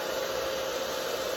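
A blow dryer runs steadily at close range, a continuous airy roar with a midrange hum, aimed at one spot to heat the binding on an archtop guitar.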